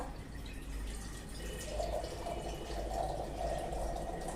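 Water pours into a pot of uncooked green peas being cooked with potatoes for an aloo matar curry, a steady close running and dripping wash that continues evenly throughout with no talk.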